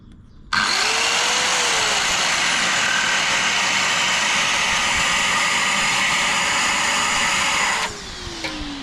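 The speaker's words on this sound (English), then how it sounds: "so when you actually start the tool up, it automatically starts the vacuum for you and turns it off" A wet and dry vacuum, switched on automatically by a plug-in power tool, starts abruptly and roars loud and close in a steady whine for several seconds before it cuts off and winds down.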